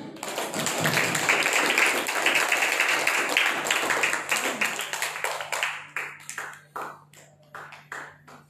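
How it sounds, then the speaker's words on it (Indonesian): An audience at a charity gathering marking the Prophet's birthday claps hands, a dense, lively round of applause that thins out toward the end into a few scattered individual claps, with a faint steady tone underneath. "Tepuk tangan yang meriah dong."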